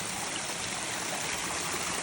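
Mountain stream flowing at a water source along a trail, a steady full rushing wash of water, close and continuous with no voices.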